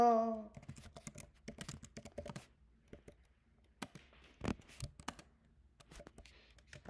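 Computer keyboard typing: irregular bursts of crisp key clicks, close and fairly quiet, with short pauses between runs of keystrokes and a brief voice at the very start.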